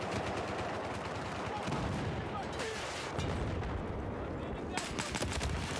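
Silenced MK11 rifle gunfire in Battlefield 4, dense continuous battle noise with repeated muffled shots and bursts throughout, loud and cluttered with other gunfire layered over it.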